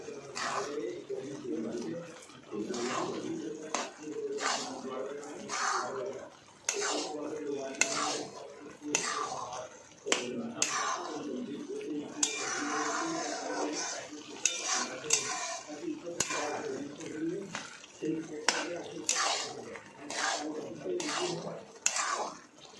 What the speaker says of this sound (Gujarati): તેને સતત આ રીતે આપણે હલાવતા રહેવાનું છે, જેથી કરીને નીચે ચોંટે નહીં